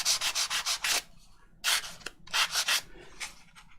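Sandpaper rubs back and forth along the paper edge of a handmade journal pocket made from an envelope, in rapid, rasping strokes: a burst of about six quick passes, a pause, then two more bursts of scraping, close and fairly loud.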